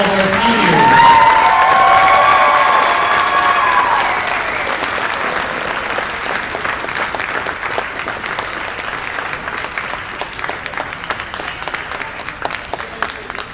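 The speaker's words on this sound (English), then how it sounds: "Let's have one more big round of applause." Sustained applause from a sizable crowd at a high school boys' basketball game honoring seniors, loudest at first and then settling into steady, dense clapping that continues to the end.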